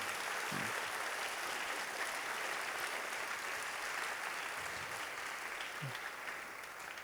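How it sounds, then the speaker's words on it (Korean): Applause from a church congregation honouring the sign language ministry after a service performance, a steady broadband wash of many hands clapping throughout, moderately loud with a few low thumps. "우리 다시 한번 수화선교부를 위해서 크게 박수하면 좋겠습니다"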